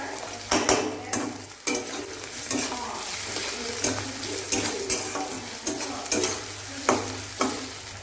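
Ginger and garlic sizzle in a hot pan while a spoon stirs them, with a steady frying hiss and regular scraping strokes against the metal, close and moderately quiet.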